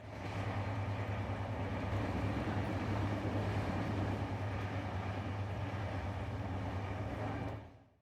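A passenger train travelling through Bihar, heard from a window seat inside the carriage: a steady loud rumble with low droning hum and rattling wheel noise throughout, fading out at the very end.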